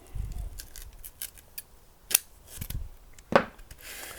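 Scissors snipping tape while a polystyrene gazing ball is prepared for mosaic work, a few crisp close cuts with soft handling rustle between them.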